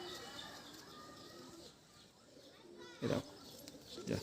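Racing pigeons, including a red-barred bird, coo softly in short bursts close by, with a louder coo late on, beneath steady conversation between men.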